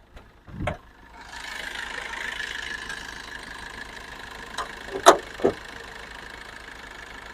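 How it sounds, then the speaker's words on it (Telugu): A used Maruti Ritz VDi diesel engine idles quietly with a soft, steady hum after a couple of clicks, broken by two sharp knocks or taps midway, close and fairly faint with no voices. "ఇంజన్ బీటింగ్ కూడా చూడండి, చాలా సైలెంట్గా ఉంది"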